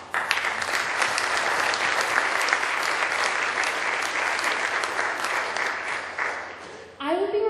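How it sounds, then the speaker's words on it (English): A reunion audience of City College graduates applauds, sustained dense clapping that runs loud and even for about seven seconds, fades, and then gives way to a voice speaking at the very end. "So I want you all to really honestly applaud yourselves."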